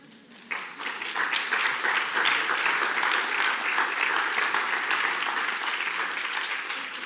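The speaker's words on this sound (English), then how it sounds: "you probably wouldn't have clapped" An audience at a talk applauds, a dense, sustained burst of clapping that starts abruptly and holds loud and even for several seconds with no voices.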